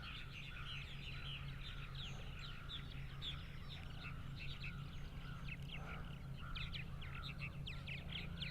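Birds chirp around a purple martin colony on eastern Long Island, New York: many faint, rapid, repeated calls over a steady low outdoor hum, continuing throughout with no talking.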